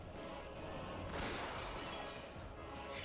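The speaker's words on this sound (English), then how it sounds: "Another explosion rang out." A game-style explosion sound effect from the Umineko visual novel bursts out loud about a second in, a broad crashing roar that rumbles on to the end over a dense background of music.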